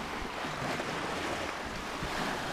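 Wind and breaking waves surround a sailboat in a 12-knot breeze. A continuous, loud, broadband rush of gusts and water is heard with microphone buffeting and no talking.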